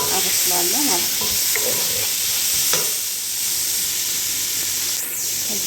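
Onion and garlic fry in a pan with a dense, loud, continuous sizzle and hiss, broken by soft stirring scrapes, with no one speaking.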